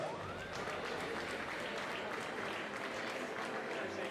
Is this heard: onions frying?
no